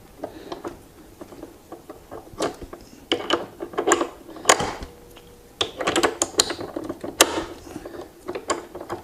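Axle nut on a Gotway Monster electric unicycle wheel being loosened, producing irregular close clicks, taps and ratchety metal clatter in uneven bursts with quiet gaps between.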